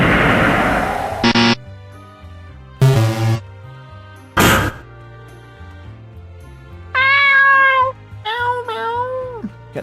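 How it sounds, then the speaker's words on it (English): Cat meow sound effects for a video game in development play one after another, several distinct meows with rising and falling tones, mixed with short sharp bursts of other game sound effects between them. "Cat time, meow time,"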